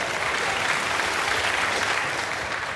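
Studio audience at a comedy panel show bursts into loud, steady applause, a dense wash of clapping that holds for several seconds without talk.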